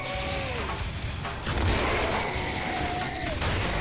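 A grenade blast in the shooter game Killing Floor sounds as a loud, heavy boom with a rumbling tail, set against constant gunfire and game noise.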